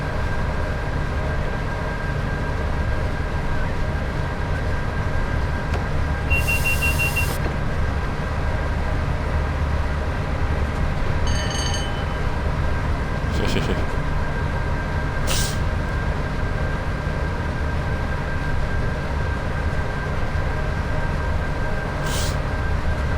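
Class 86 and 87 electric locomotives running the WCML over Shap in a train simulator game, giving a steady, continuous low rumble and hum of train motion, with a few brief high clicks and chirps along the way.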